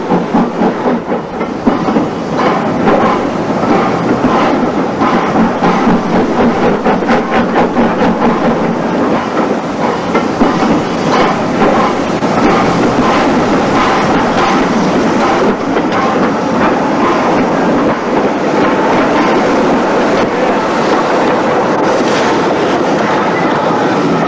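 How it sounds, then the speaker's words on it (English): An LSWR M7 tank engine pulls its train into Yeovil Town station, with steady loud clickety-clack of wheels and a rumbling roll and hiss that hold for the whole stretch, no voices. "The train pulls in to Yeovil town station."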